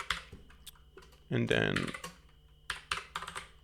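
Quick, uneven clacking of keys on a new computer keyboard, close and fairly crisp, interrupted by a brief spoken phrase partway through.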